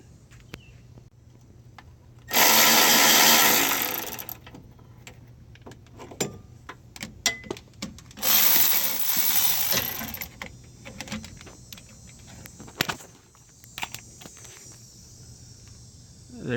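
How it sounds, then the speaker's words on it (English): A Milwaukee 12-volt 3/8-inch drive cordless ratchet loosening a castle nut on a Jeep Cherokee XJ track bar, two loud whirring bursts of a couple of seconds each, separated by scattered metallic clicks and clanks. "This Milwaukee 12-volt 3/8 drive."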